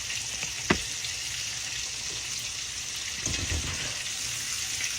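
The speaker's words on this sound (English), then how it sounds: "let's check our fish, see how that's doing. He's cooking away." Catfish frying in a pan of hot oil, a continuous bright sizzle with crackle and a couple of soft clinks or stirs, close and steady with no talking.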